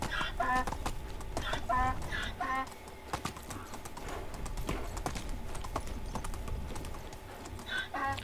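A donkey's hooves clip-clop steadily on the ground in Medieval Dynasty, close and fairly quiet, with occasional chicken clucks in the background.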